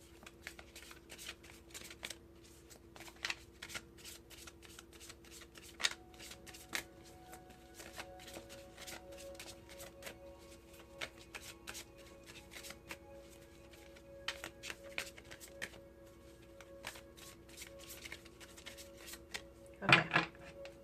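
A deck of oracle cards is shuffled with soft, steady riffling and rubbing for about twenty seconds, quiet and close, then a sharper flurry of card handling comes near the end.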